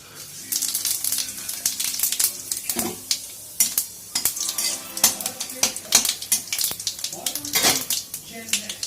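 A spoon stirs and scrapes through cumin powder frying in a hot pan, with frequent close metallic clinks over a steady sizzle, the scraping strokes coming in an uneven rhythm.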